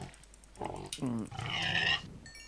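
Pig in the Blightfall Minecraft mod pack video game, a few short grunting oinks heard close, faint and brief, followed by a higher squeal.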